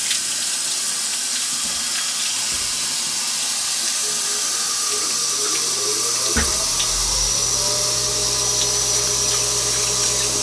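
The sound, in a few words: warm water running from a tap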